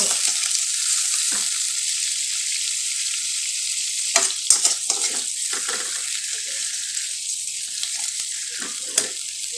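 Food fries in hot oil, giving a constant, loud, bright hiss with occasional bubbling crackles and pops layered over it.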